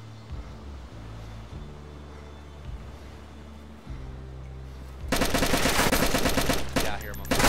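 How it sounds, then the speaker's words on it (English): Gunfire in the video game DayZ: a low, rumbling stretch of game ambience gives way around the five-second mark to a loud, dense burst of rapid automatic shots that continues to the end. "You hear him shooting?"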